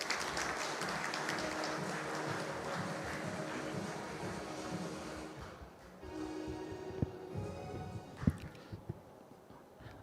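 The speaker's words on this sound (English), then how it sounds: "a big round of applause" Audience at an anniversary celebration gathering applauding, a dense wash of clapping for several seconds that thins out midway, leaving scattered claps and a few sharp knocks over a quieter room.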